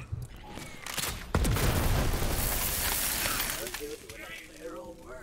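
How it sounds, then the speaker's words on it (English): A loot explosion in the video game Borderlands 3, played as Zane: a sudden booming burst gives way to a dense crackling, scattering spray of effects and bright chiming tones, with voices audible underneath. "Wow, this loot explosion is really good though."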